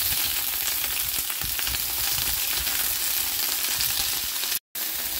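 Vegetables fry in a pan with a little oil for pancit canton, giving a steady, close, dense sizzle that runs unbroken except for a brief silent cut near the end.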